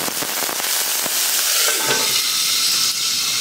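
Onions and potatoes sautéing in a pan for a chana pulao and potato kurma lunch, loud steady sizzling and crackling with a few sharp pops early on, close and alone.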